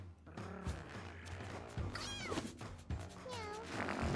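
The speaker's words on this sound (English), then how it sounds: "We do have too many cats." Several meows from the cats of the video game Mewgenics, a few short rising and falling calls over a low game music bed, fairly clear and close.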